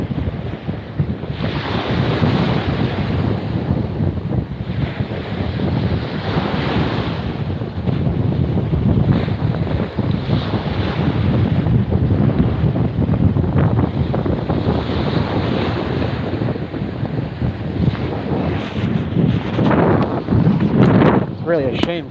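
Heavy wind buffeting the microphone, a constant loud roar and rumble that surges in gusts throughout, with no other clear sounds.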